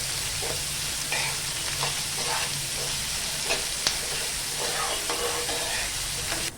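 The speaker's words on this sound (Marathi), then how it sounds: "कांदा आणि टॅमॅटो आहे ना छान असा मऊ येईपर्यंत ना शिजवून घ्यायचं आहे" Onion and tomato fry in a pan with a steady, close, loud sizzle, broken by frequent stirring scrapes and clinks that continue without pause.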